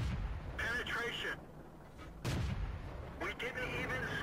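A 75 mm cannon on an AMX 13 75 light tank fires in World of Tanks, several heavy booming shots spaced a second or so apart over rumbling engine and battle ambience.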